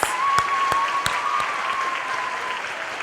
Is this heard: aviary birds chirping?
no